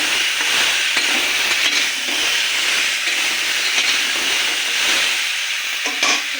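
Food being stirred in a hot pan after salt is added, a continuous loud sizzling hiss with faint scraping, steady for several seconds with no talk.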